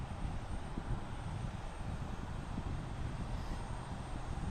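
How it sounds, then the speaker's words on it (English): An Ameriflight Embraer 120ER turboprop at Portland International Airport produces a continuous broadband engine roar and propeller drone, steady and fairly loud throughout, mixed with wind noise. "An Ameriflight Retro Embraer 120ER"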